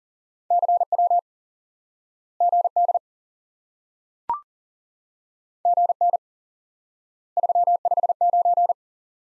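Morse code CW tones from a ham radio lesson: steady mid-pitched beeps keyed in four separated bursts of dits and dahs, with a single short click in the middle gap and no voices.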